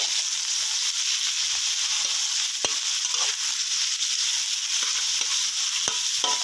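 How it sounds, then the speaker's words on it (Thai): Pork stir-fries in a pan over high heat, a steady loud sizzle with occasional scrapes and clicks of the spatula, with no voice. "ครับใส่หมูลงไปนะครับ ใช้ไฟแรงขึ้นนะครับ ครับผัดผัดไปเรื่อยๆนะครับ"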